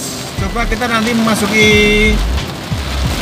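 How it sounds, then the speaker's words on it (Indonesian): Heavy rain pours steadily on a surface while someone talks over it during a drive in Jogja, Indonesia, with a passing vehicle's whoosh in the background. "Ternyata juga masih hujan deras."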